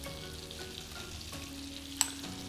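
Butter heats in a wok for chicken, giving a soft, steady low sizzle with faint stirring and a brief sharp clink near the end, with no talking.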